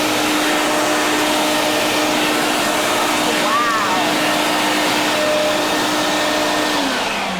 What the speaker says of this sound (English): we would turn the HEPA filter vacuum system on and it would extract it all